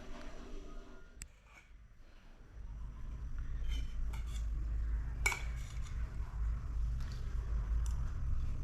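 A spoon scrapes and clinks against a plate of kande pohe, giving soft, sparse taps over a low steady hum in a quiet village home.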